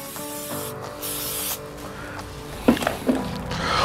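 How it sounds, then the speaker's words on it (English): Canola oil is sprayed from a can onto a pork belly before smoking, with a couple of short close hissing bursts followed by faint handling noises. "First things first, little spray canola oil."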